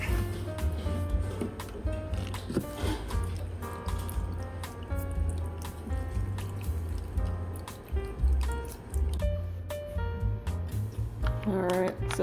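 Filtered water pours and trickles into an oyster mushroom growing kit sack, steady close splashing with scattered drips and squishy bubbling throughout.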